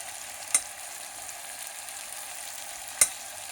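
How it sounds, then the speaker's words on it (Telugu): Ginger garlic paste fries in a pan with a steady, even sizzle, punctuated by two brief clicks of a utensil. "అల్లం వెల్లుల్లి పేస్ట్ వేస్తున్నాను."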